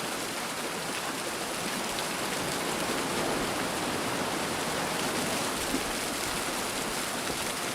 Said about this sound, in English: It is called Waterfall and Ocean, and we just give it a listen.